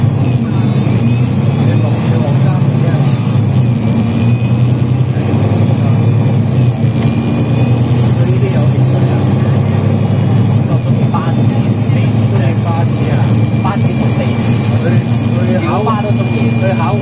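Hong Kong bus with an automatic gearbox driving, a steady engine drone and faint gearbox whine running throughout, loud and continuous under people talking.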